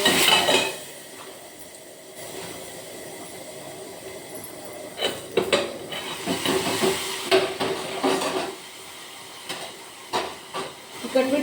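Tomatoes go into a pan of hot spices: a soft hiss builds under a run of clattering utensil knocks and scrapes against the pan, irregular and close, with quieter gaps between bursts.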